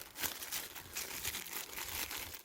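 A clear plastic bag is torn off a vinyl roll and handled close by while packing harvested autumn carrots, giving continuous loud crinkling and rustling with no speech.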